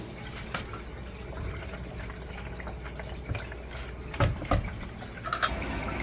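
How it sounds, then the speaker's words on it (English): Dirty aquarium water gurgling and splashing as a squeeze-bulb gravel cleaner siphons it through a small filter and tube into a bucket, a steady wet flow with a few louder sloshing bursts near the end. "Every squeeze, I'm filling up with water, going through a small filter, and then right down the tube and into the bucket"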